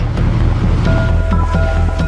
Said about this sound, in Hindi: समंदर शांत दिखता है